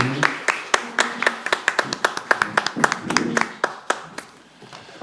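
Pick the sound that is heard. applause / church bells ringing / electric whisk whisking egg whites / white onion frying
applause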